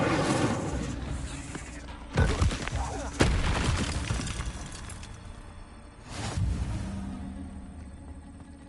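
An Incendio fire spell cast in a wizard video game bursts out with a loud whooshing crackle and booming impacts, several flare-ups over steady game ambience while a person talks.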